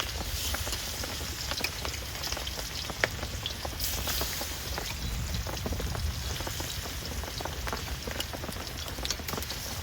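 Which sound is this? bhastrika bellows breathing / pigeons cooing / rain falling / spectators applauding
rain falling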